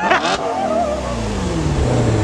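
A car engine revs hard in dynamic mode with its exhaust valves opened, a loud, close roar that drops into a deep, sustained rumble after a short burst of voices at the start.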